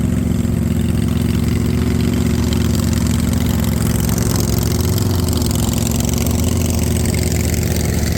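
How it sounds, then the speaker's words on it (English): Homemade lawn mower's small engine running loudly and steadily at half throttle, a constant buzzing idle-like pitch, close to the listener, with no talking. "The engine is not even full throttle as well."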